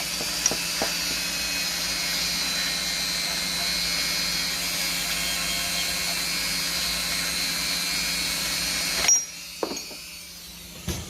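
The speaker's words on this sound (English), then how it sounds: "give it a quick polish with the Dremel, with a bit of metal polish" A Dremel rotary tool with metal polish buffs a part from a 1957 Ferguson 20 TEF diesel pump, giving a steady close high whine that runs continuously for about nine seconds before cutting off, followed by a few clicks.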